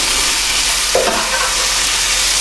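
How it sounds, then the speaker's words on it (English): Tomato puree fries in a pan for a Kashmiri chicken curry, giving a loud continuous sizzle with one brief stir or scrape partway through. "the next thing I want to add is the tomato puree. And again, we're just going to cook that through for about a minute"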